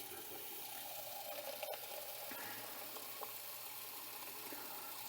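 Reverse-osmosis water trickles slowly and steadily from a kitchen tap during a cooking class, a faint continuous running stream with no talking over it.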